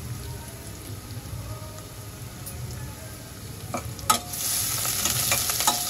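Garlic and a bay leaf frying in oil for moong dal khichdi, a low steady sizzle with a few light taps, rising to a louder crackling sputter near the end.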